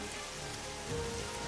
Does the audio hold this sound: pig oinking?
no